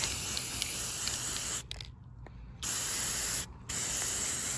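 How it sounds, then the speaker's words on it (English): An aerosol can of lime green spray paint hisses in two long, loud bursts over an evergreen wreath, separated by brief pauses, with a third burst starting at the end. "we're going to cover our evergreen wreath that I got at Hobby Lobby with this spray paint"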